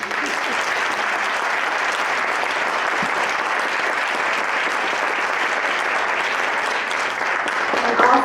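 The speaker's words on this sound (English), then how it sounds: "Let's give another round of applause for Jonathan." An audience applauds after a literary reading by Jonathan Franzen, a dense, sustained burst of clapping from a large crowd that continues evenly throughout.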